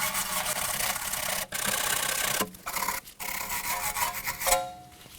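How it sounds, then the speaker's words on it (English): Wire brush scrubbing the pad contact surfaces on the rear parking brake of a 2016 Kia Sorento, a steady close-up rasping with two brief pauses, ending in a sharper scrape. "For that, I'm gonna be using a wire brush."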